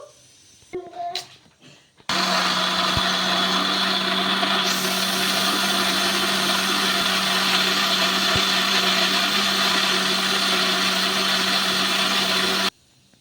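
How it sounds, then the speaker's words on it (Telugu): A mixer grinder whirs at a constant high speed as it grinds soaked moong dal with water into batter, running steadily for about ten seconds after a few brief knocks and then stopping. "నీళ్ళు వేసుకొని దీన్ని మెత్తగా మిక్సీ అయితే పట్టేసుకోవాలి"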